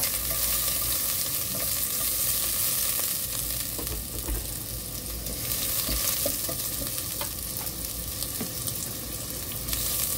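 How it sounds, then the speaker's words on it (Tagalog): Ginger sizzles and fries in a little oil in a saucepan, a continuous crackling hiss with occasional stirring scrapes, steady and close throughout. "gisa natin yung ating luya"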